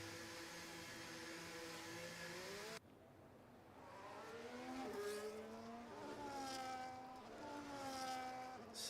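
Formula-style race cars in a racing video game lap the Austrian circuit, engines whining and shifting up and down in pitch as several cars pass in turn, loud and continuous.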